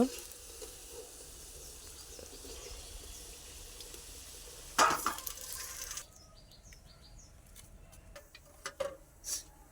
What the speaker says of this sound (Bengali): বন্ধুরা, আলুগুলো ভাজা হয়ে গেছে লাল লাল করে।